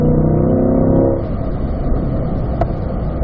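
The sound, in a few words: race car engine as driver shifts up to fourth gear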